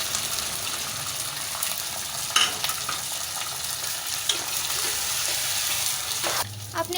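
Chicken sizzles and fries steadily in a pan with ginger garlic paste and nihari masala, the continuous crackle broken by occasional stirring and scraping, and a voice briefly audible.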